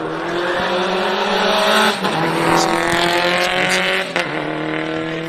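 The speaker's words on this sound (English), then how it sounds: "So we'll see the next car make the way out." A rally car roars past at close range on a gravel special stage in South Canterbury, New Zealand, engine revving hard and shifting, with gravelly tire noise under the loud, continuous drone.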